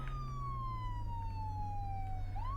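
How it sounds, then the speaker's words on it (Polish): An emergency vehicle siren in a rescue video game sweeps slowly downward in a single long wail, then jumps back up at the end. It sounds steady and moderately loud against a low engine rumble. "włączam syrenę"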